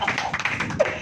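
An audience at a church sermon claps together in a quick, close burst of dense overlapping hand claps lasting about a second, with no speech over it.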